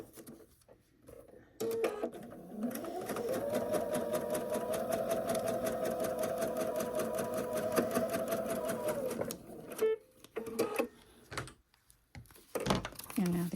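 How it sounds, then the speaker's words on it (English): A sewing machine stitches steadily along a fabric edge for about eight seconds, a continuous close whirring hum that starts and stops abruptly, with quiet handling noises before and after. "And we're going to stitch along this edge."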